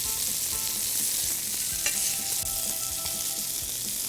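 Meatballs frying in a pan on a burner, a dense continuous sizzle with soft scraping and clicking as they are turned, close and steady with no talking.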